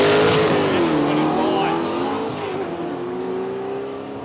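A manually shifted Ford Falcon drag car roars down the strip at Palmyra Raceway, its loud engine note dropping at a gear change and then climbing again as it fades into the distance.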